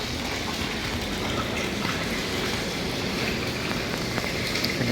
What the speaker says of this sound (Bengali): অনেক ছোট একটা ঝর্ণা দেখতে পাবেন এখন। পানির শব্দ অনেক ভালো লাগে আমাদের।